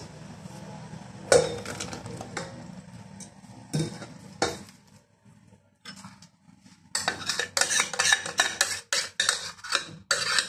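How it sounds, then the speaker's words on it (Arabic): A spoon stirs a body scrub of adad herb, lemon and water in a bowl, giving scraping and clinking strokes that come in scattered bursts, then quicken into steady, busy mixing. "غادي نقلب هاد الشيء في هذا باش غادي نخلط كيف ما بغيت"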